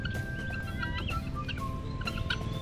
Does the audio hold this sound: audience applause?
no